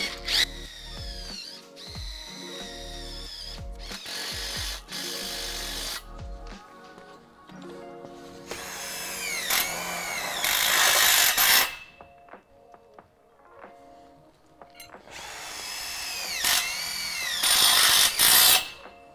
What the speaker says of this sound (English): So you start slow until you bore your hole. Make sure it stays spinning.